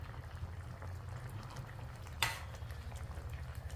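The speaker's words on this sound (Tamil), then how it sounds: "புளி, உப்பு, சாம்பார் பொடி எல்லாம் போட்டு காயை வதக்கி இப்போ வேக விட்டுருக்கு." Vegetables simmer in a pot of Tanjavur-style sambar with tamarind, salt and sambar powder, giving a soft, steady low bubbling with a brief clatter midway.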